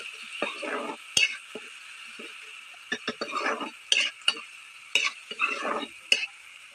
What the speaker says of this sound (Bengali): মশলাগুলি ভালো করে নেড়ে তারপর এটির মধ্যে যে একটু তেল বের হবে